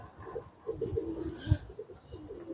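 A female pigeon coos softly in low, rolling phrases at close range, with a brief louder rustle midway and quiet ambient background.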